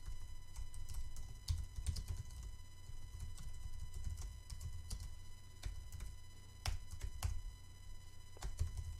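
Steady keyboard typing while writing C code in the vim editor, a continuous run of soft clicks with a few sharper keystrokes, close and moderately quiet over a low background hum.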